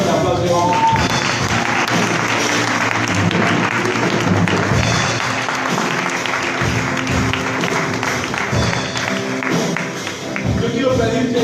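A church congregation gives a loud, sustained round of applause, dense clapping filling the room with occasional thumps and some voices mixed in.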